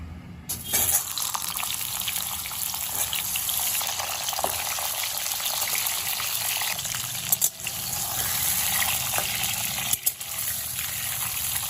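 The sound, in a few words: pointed gourds frying in hot mustard oil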